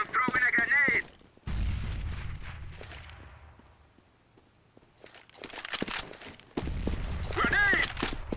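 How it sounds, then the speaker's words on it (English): In a shooter video game, bursts of gunfire crack loudly, then a heavy grenade explosion booms and its rumble fades over several seconds before more rapid shots resume, with players talking over the opening and closing bursts. "I am throwing a grenade!"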